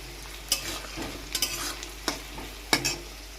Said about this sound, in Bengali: যাই হোক, পেঁয়াজটা ভাজা হতে থাকুক।